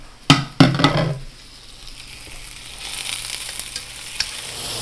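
Pork loin sears in a frying pan: a couple of sharp clinks or scrapes at the start, then a steady, close sizzling hiss that carries on alone.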